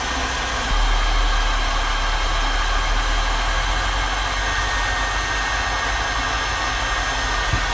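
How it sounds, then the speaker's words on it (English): A hot air gun runs in a powerwall battery setup, a steady loud blowing roar with a low hum underneath, continuous throughout with no talking. "we're pulling 20 amps out of the batteries with the hot air gun running"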